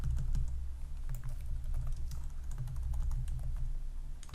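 Steady typing on a computer keyboard, a quick irregular stream of close, soft key clicks with no voices, continuing throughout.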